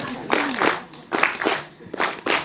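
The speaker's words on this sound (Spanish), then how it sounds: "Hagan palmas mínimas ustedes" An audience claps softly in time at a folk music performance, several evenly spaced bursts of light clapping with a faint voice beneath.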